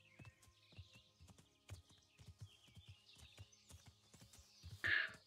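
Horse hooves clip-clop steadily on the ground in the medieval game Kingdom Come Deliverance, a regular rhythm of sharp close thuds with a brief louder burst near the end.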